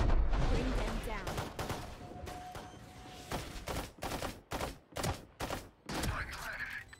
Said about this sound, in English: God, I hate this gun so much.